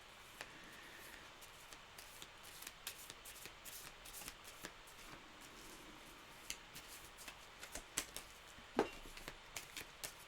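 A tarot deck is shuffled by hand in a quiet room, giving soft, papery riffles and scattered sharp card snaps that grow more frequent toward the end.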